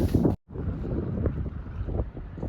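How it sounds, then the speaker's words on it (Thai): Strong wind buffets the microphone at a seashore in a national park in the Netherlands, a loud low roar with gusty rumbles and a brief drop near the start. "ดูบรรยากาศลมแรง"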